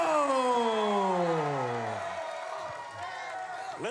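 Wrestling crowd at an OVW main event roars and cheers for heavyweight champion Cash Flo, a steady, loud wash of arena noise under a drawn-out, falling ring-announcer call.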